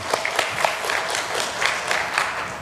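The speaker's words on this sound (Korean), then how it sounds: "우리 찬양대 또 지휘자 반주자 모든 분들에게 우리 박수 한번 하겠습니다" A church congregation at a Sunday service claps for the choir, conductor and accompanist, moderate crowd applause with a few sharper claps standing out, continuous throughout.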